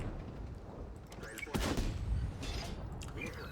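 Tank gun firing in World of Tanks, a sharp heavy boom midway followed by a rumbling tail, set against game background noise with a voice talking.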